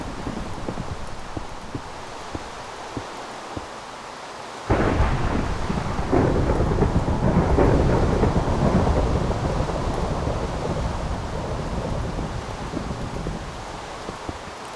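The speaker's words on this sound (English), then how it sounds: "Oh, great. Thunderstorm." A thunderstorm rolls in within the video game Minecraft: a sudden loud thunderclap breaks over quiet ambience, then a heavy, rumbling wash of rain and thunder continues and slowly fades.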